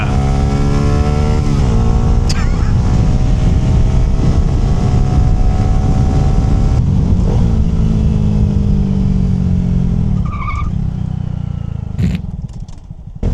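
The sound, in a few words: Honda Grom motorcycle engine accelerating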